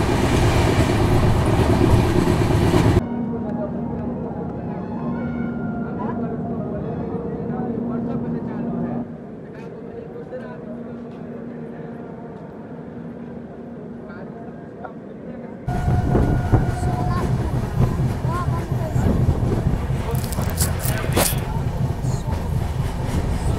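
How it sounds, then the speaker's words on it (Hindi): The Pawan Express departs Chhapra Junction with a loud, steady rumble of rolling wagons that drops to a quieter interior hum, then swells again into clattering wheels and rushing noise, with voices heard in between. "ट्रेन को स्टार्टर दिया जा चुका है छपरा जंक्शन से निकलने के लिए"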